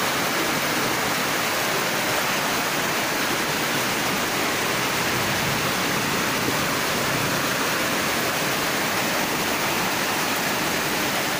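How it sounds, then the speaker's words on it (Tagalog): Heavy rain pours down in a late-afternoon downpour after a very hot day, a dense steady roar of water that stays constant and loud throughout, with no voices. "Lakas ng ulan."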